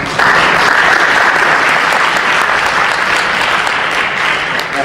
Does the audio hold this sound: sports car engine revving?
no